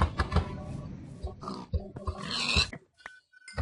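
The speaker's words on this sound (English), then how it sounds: "Ooh, those are a lot of pigs." Several pigs oink and grunt in a survival video game, a close, loud run of uneven snorts and squeals that thins into a few sparse grunts near the end.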